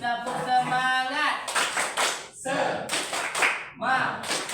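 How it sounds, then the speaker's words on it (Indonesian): A high school class claps in unison, a rhythmic spirit-clap routine in bursts of sharp, close hand claps, with students chanting between the clapping patterns. "Tepuk semangat."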